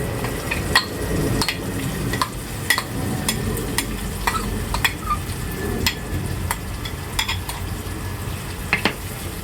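A masala paste for a prawn curry with chopped coconut sizzles in hot oil while a spoon stirs it, with steady frying hiss broken by repeated sharp scrapes and clinks against the pan over about nine seconds.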